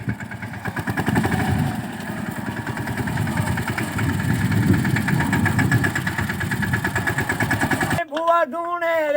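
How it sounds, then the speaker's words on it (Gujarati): A diesel tractor engine chugs steadily and loudly at close range, its rapid rhythmic pulse continuing for several seconds before music cuts in. "આવી ગયું છે ટ્રેક્ટર અને આની કરતા રાઉન્ડ હાલી ગયું છે"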